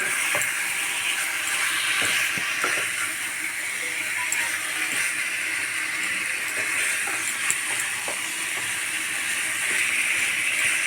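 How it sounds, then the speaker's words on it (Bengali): Chicken is stirred into green spice paste in a pan, giving a continuous soft sizzle and hiss with faint scraping and occasional clinks of the spoon. "মাংসটাকে এবার আমি মশলার মধ্যে ভালোভাবে নেড়ে চেড়ে মিশিয়ে নেব"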